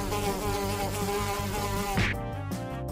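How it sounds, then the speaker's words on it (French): Cartoon bees swarm out of a beehive in a steady, droning insect buzz that shifts pitch partway through. "C'est une ruche!"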